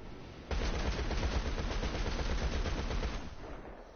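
A railgun firing in GTA V: a loud, rapid burst of crackling shots begins abruptly, holds for about three seconds, then cuts off into a fading tail.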